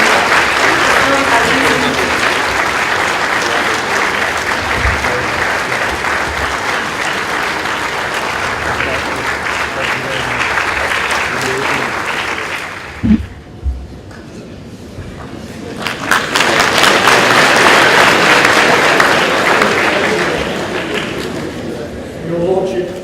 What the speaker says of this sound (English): Shall we keep the applause going?